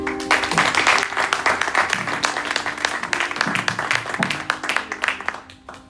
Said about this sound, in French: On peut continuer à acclamer le Seigneur.